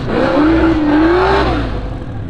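Biturbo Porsche accelerating hard at a half-mile drag race, a loud rising engine howl climbing through the revs then fading as the car pulls away.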